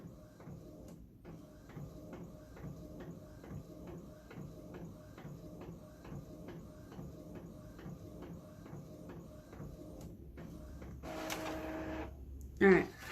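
An Epson inkjet printer printing thank you cards runs with a steady, rhythmic mechanical pattern of repeated carriage passes. A louder burst and a clunk come near the end, and speech sounds are present.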